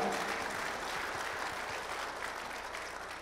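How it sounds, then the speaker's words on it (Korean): An audience at a large formal gathering gives a round of applause, a dense steady wash of clapping that fades slightly toward the end, with no voices above it. "So please give yourselves a round of applause."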